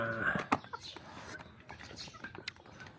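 Chickens cluck and squawk close by in a short burst, with soft barnyard noise and faint background sounds around them.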